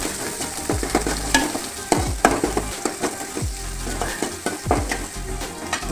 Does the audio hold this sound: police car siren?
no